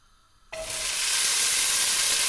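Vegetables hit hot olive oil in a pan over high heat, breaking into a sudden loud sizzle after a brief quiet moment and then hissing steadily and close.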